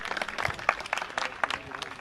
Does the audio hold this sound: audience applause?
yes